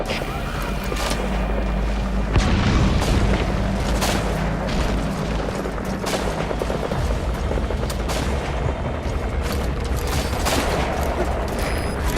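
Sniper fire and heavy battlefield gunfire from the PC video game Metal Gear Solid V: The Phantom Pain, with repeated loud shots, booms and bursts layered over a continuous dense combat din.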